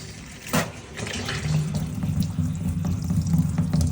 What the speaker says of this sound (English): Cold always first on the right.